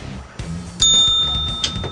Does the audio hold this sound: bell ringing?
yes